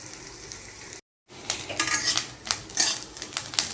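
Grated coconut fries in a pan until it turns light brown, with a soft sizzle beneath repeated scraping and clinking stirs of a utensil against the pan. A brief silent gap breaks the sound early, and the stirring grows busier afterward.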